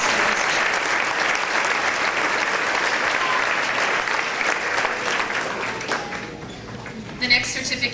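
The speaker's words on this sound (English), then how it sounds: "Can we have one more round of applause for" Steady crowd applause at a fifth-grade school graduation, filling the room evenly before thinning out, with a few louder claps and a voice near the end.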